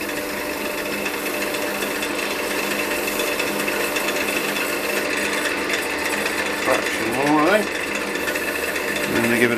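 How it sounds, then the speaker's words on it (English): Wood lathe spinning steadily while a Hampshire Sheen finish is buffed onto the turning piece, a dense continuous mechanical rumble and rasp throughout with a brief rising whine as the speed increases near the end. "Now it recommends putting it on with the lathe turning and then speeding the lathe up for some buffing, so we'll do that."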